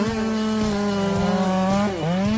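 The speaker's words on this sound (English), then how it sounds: "That's this guy with a chainsaw." A chainsaw cutting a tree runs loud and steady close by, its engine note holding then dipping briefly as the blade bites into the wood.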